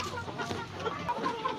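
Free-range Sonali chickens, about 4.5 months old, clucking in a busy coop, a steady jumble of overlapping calls at moderate volume.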